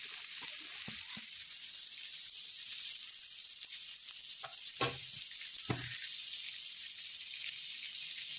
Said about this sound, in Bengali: এবার এই তেলে গাজরটা ভেজে নেব।